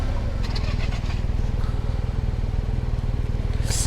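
Yamaha T-MAX 560 2024 scooter accelerating, a steady, loud engine drone with a pulsing low rumble that holds throughout, close to the rider, ending with a brief hiss of wind or tyre noise.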